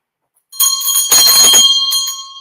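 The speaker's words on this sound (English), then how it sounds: "I'm going to ring a bell every time somebody comes in." A bell is rung to greet someone arriving, giving one bright metallic strike followed by a second hit and a long shimmering ring that fades slowly. It is loud and close, with no talking.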